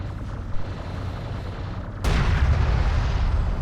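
Assault railgun fire in the real-time strategy game Homeworld: Deserts of Kharak, a quiet rumbling battle bed that erupts into a sudden loud sustained blast of heavy booming fire in the second half.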